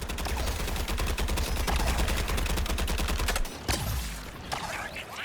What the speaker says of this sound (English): I am firing upon Boomerang's target